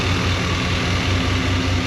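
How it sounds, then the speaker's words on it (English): Vehicle engine idling smoothly after a new thermostat and coolant refill, a steady low rumble with an even pulsing beat, close by and continuous. "she's just idling super smooth in here"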